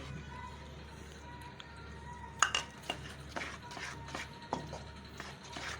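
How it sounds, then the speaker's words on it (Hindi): A spoon stirring sweet syrup with coconut for maida milk powder barfi, giving several sharp metallic clinks and scrapes against the pan at irregular intervals, close and moderately loud over a steady low hum. "अब चम्मच की मदद से इसे अच्छी तरह से मिक्स कर लेंगे।"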